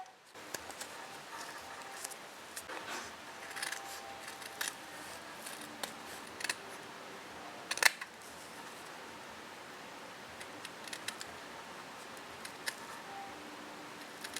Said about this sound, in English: we're going to cut two horsey shapes out of our felt